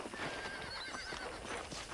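Horse in Red Dead Redemption whinnying close by, mixed with clip-clop hoofbeats and a busy outdoor game ambience, fairly quiet overall.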